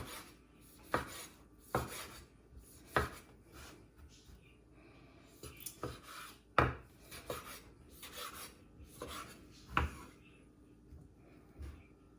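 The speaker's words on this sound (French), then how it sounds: "Et notre tomate cerise coupée pareil" Cherry tomatoes being sliced on a cutting board, with a series of soft, separate knife taps and scrapes at close range, quiet and spaced out, with no speech over them.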